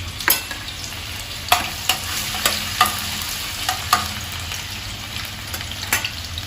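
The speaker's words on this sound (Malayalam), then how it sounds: "മൂന്ന് ടേബിൾ സ്പൂണോളം ഓയിൽ ഒഴിച്ചിട്ടുണ്ട് ചൂടായി വന്നിട്ടുണ്ട് നമുക്കൊരു അല്പം സവാള എല്ലാം കൂട്ടിടാം" Finely chopped onions fry in about three tablespoons of hot oil under a constant close sizzle, punctuated by a steady series of sharp scraping stirs of a spoon against the pan, with no talking.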